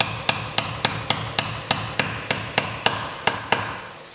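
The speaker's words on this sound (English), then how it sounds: "Drive it in." A hammer drives a roll pin into a Weber 40 IDTP carburetor with about a dozen sharp metallic taps at an even, steady rhythm, loud and close with no talk.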